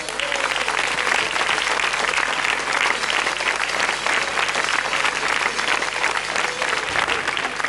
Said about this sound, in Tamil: நல்ல ஒரு உற்சாகமான கைத்தட்டல் சார் இருக்கு